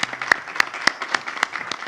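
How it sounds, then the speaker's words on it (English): A small audience at an academic event on Palestine gives a brief round of applause, sparse, fairly faint claps with a few sharper, distinct hand strikes spaced through the moment. "give them a big hand of applause"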